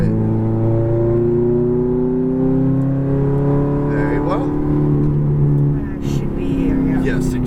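A Ferrari F430 on a racetrack pulls through an infield section and down a hill, its engine droning steadily and rising in pitch, loud and close, with a coaching voice talking over it.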